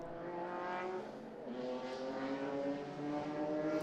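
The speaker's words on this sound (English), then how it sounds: "You can hear the blips of the throttle as they hand tow them down through the gears" Historic racing cars at a circuit festival pass at a distance, their engines rising and falling in quick throttle blips as they downshift, faint and overlapping.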